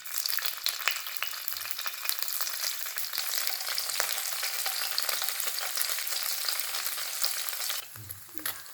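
Paneer fries in hot oil in a kadai, giving a continuous, dense hiss of sizzling close by with faint low knocks, steady throughout before briefly dropping near the end.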